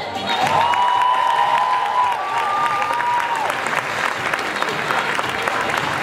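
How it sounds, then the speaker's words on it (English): Dense, sustained applause from an audience at a UCLU Malaysian Night student stage production, loud and steady throughout with a faint tonal line drifting over the crowd noise for a few seconds. "A round of applause for Anas."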